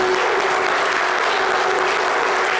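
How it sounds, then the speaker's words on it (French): A studio audience applauds the zouglou duo Yodé et Siro on a talk show, a short burst of dense, loud, steady clapping heard alone. "Est-ce qu'on peut les applaudir?"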